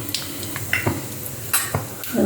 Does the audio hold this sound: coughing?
no